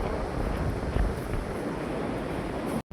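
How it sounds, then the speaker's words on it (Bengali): Strong sea wind and surf on the rocky Atlantic coast of Portugal make a continuous loud, blustery roar that buffets the microphone, with waves washing beneath it, broken by a brief dropout near the end. "বাতাস গ্রহণ করছি এই সাগরের বুকে এসে, সুন্দর বাতাস"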